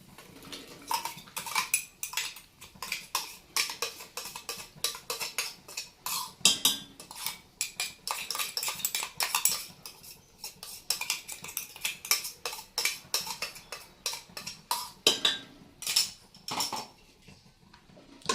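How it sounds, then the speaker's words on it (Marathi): A spatula keeps scraping and clinking against a pan as spice paste is stirred into sautéed masala for a white chavli rassa bhaji, the strokes coming in an irregular rhythm, close. "आता याच्यामध्ये आपण जे वाटण तयार केलं होतं ते आपण टाकून मिक्स करून घेऊया"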